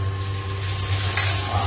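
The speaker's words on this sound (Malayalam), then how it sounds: "നമ്മളെ എണ്ണ ചൂടായിട്ടുണ്ട് നമുക്ക് നമ്മളെ ചിക്കൻ ചുക്ക ഉണ്ടാക്കാനുള്ള ചിക്കൻ ഒന്ന് പൊരിച്ചെടുക്കാം" Chicken pieces fry in hot oil for chicken chukka, a steady close sizzle under a constant low hum, with a brief bright clatter near the end.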